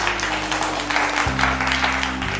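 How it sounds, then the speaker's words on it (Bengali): A crowd claps steadily at a family game-show event in a Senco store in Nagerbazar, with the applause running continuously over a low, sustained music bed. "হাততালি।"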